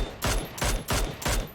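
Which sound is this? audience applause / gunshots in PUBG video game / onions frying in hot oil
gunshots in PUBG video game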